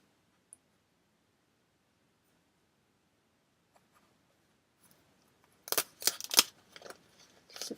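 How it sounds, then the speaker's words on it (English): After several seconds of near silence, scissors trim a piece of card up close with a quick run of crisp, sharp snipping cuts. A few softer snips follow. "Just before I trim it off."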